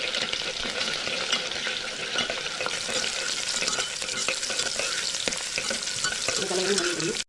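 Dried chilies, garlic and small shallots are stirred in a hot frying pan for sambar rice, giving a steady oily sizzle with scraping spoon strokes throughout, close and fairly loud, with no voices.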